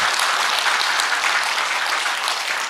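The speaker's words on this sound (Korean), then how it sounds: "영아부 위해서 여러분 박수 한번 해주세요." A church congregation breaks into dense, even applause that fills the room for a few seconds, loud and close with no voices over it.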